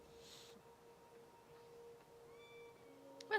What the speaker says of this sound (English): Let me just treat the cat then